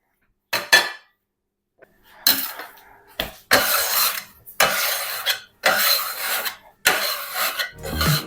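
Sourdough bread dough cut into 12 pieces on a bench, heard as a series of sharp rasping scrapes and scrapes against a hard surface in separate bursts with short silences between, close and fairly loud.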